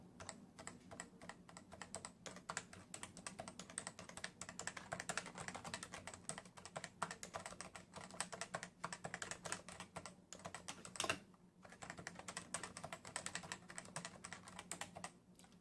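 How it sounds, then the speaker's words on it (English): Typing on a CM Storm Novatouch keyboard with Topre switches, a rapid stream of soft, muted keystrokes with a brief pause near the end, quiet and close with no talking. "whenever you hard press the board, you hear that satisfying pop sound"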